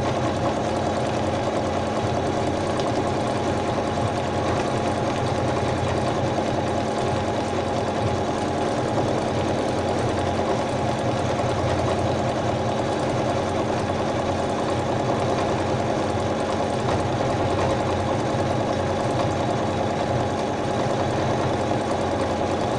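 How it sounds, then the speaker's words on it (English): A home embroidery machine stitches out a simple band of a bedtime design at high speed, a steady, dense mechanical whir and rattle running loud and unbroken throughout. "It's going quite fast now because obviously my machine has decided, oh, this is an easy stitch, not very complicated at all, so it's going quite fast."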